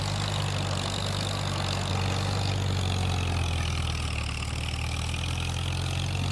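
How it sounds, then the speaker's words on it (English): A tractor engine in the Farming Simulator 25 game drones at a steady idle-like pitch, continuous and loud with a low rumble throughout, alone without talk. "This tractor will do the job."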